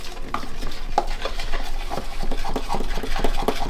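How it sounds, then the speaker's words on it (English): Steady stirring of water into a thick mixture in a bowl, repeated scraping strokes that run continuously and fairly close without any talking. "just slowly add your water and just keep stirring"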